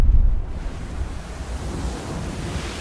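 Ocean waves surge in the South Pacific, starting with a heavy low rumble before settling into a steady, broad wash of surf and wind.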